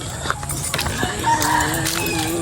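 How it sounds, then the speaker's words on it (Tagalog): Chickens on a backyard farm in the Philippines, kept with pigs and turkeys under coconut trees, cluck in a busy, dense stretch of sound with a rooster-like call mixed in, all close by and steady. "Manok natin nandito."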